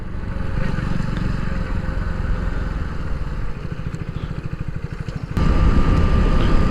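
Hero HF Deluxe motorcycle engine running steadily while riding over potholes, a loud close drone with rattling pulses and a sudden louder surge near the end.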